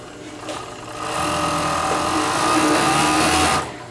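A Juki overlock sewing machine running a 6, 5, 4, 3 thread merrow stitch: a fast, even mechanical whir that starts up, holds steady at speed for a couple of seconds, then stops, close and loud with no talk.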